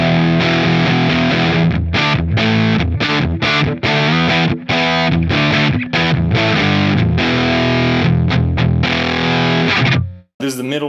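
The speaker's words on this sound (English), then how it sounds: "Right now it's on the distortion setting." Electric guitar played through a Fuzzrocious custom pedal on its distortion setting, loud and saturated, with chopped chords and riffs that stop abruptly near the end.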